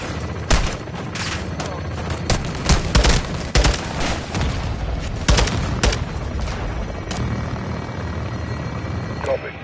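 Heavy gunfire on a marked target in the Modern Warfare 2 campaign, with loud bursts and booms in uneven clusters over a steady helicopter rotor drone.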